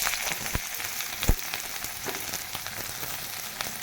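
Chopped onions fry in hot oil with a close, steady crackling sizzle dotted by sharp pops and spatters, one louder snap standing out, and no talk over it.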